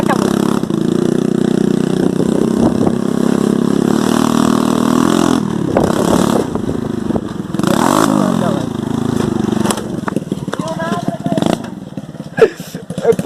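A motorcycle fresh from the repair shop idles and then revs in sharp bursts up close, with people talking over the engine throughout.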